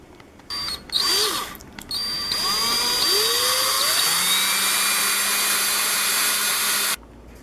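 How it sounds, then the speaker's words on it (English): A power drill with a 1/2 inch bit whirs up in short bursts, then runs steadily under load as it bores into wood, loud and close, before stopping abruptly. "Once I got all the holes drilled"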